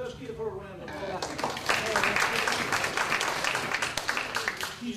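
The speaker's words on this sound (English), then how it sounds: "Let's give her a round of applause." A public forum audience gives a round of applause for a guest's wife, building from a lull into steady clapping while a voice talks over it.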